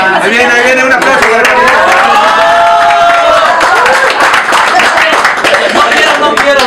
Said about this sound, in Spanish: Ahí viene, un aplauso.